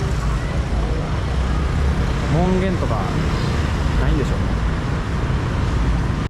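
Street traffic in Ho Chi Minh City, near Bui Vien Street, gives a constant dense roar of passing vehicles, with a voice speaking briefly over the noise.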